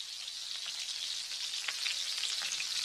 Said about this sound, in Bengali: ওই যে দেখো মিষ্টির দোকান কেমন জিলিপি ভাজছে।